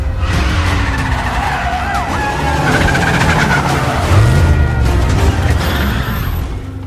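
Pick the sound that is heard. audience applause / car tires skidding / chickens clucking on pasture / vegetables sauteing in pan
car tires skidding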